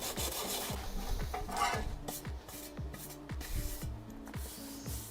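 Body filler being sanded by hand during a Honda VFR 1200 motorcycle repair, a close, continuous gritty rasp of repeated back-and-forth strokes in a steady rhythm.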